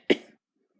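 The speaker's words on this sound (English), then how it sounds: "Like now, she starts coughing again." A girl gives a single sharp cough, close and brief, trailing off into quiet.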